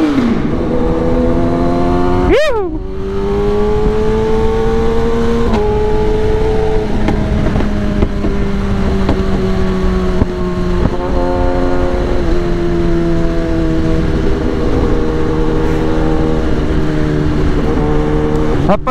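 A Kawasaki Ninja ZX-10R sport bike engine roars and revs in sharp bursts, pitch swinging up and down over a steady loud idle, no voices present.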